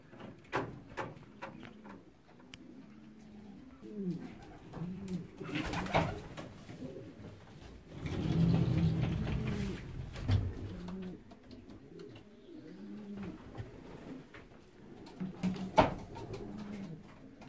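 Racing pigeons coo steadily at the loft after returning from a 309 km race, soft repeated low coos overlapping throughout, with occasional knocks and a louder rustling burst in the middle.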